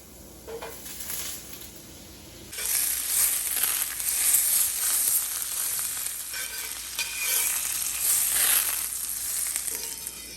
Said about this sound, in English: we're going to take 2 tablespoons of butter and we're going to put it in a pan over medium to medium-low heat